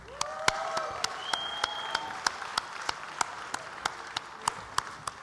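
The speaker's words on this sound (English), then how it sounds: "A round of applause for yourself." A convention audience at a cosplay championship applauds, thinning to scattered, distinct individual claps spaced out over several seconds, with faint tonal sounds in the background.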